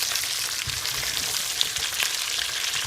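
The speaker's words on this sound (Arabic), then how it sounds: "الثوم ما احمسه زايد لان يطلع طعمه ما طيب" Chopped garlic frying lightly in a pan for an Iraqi dried white bean dish, giving a steady, close, moderately loud sizzle with faint crackles throughout and no voices.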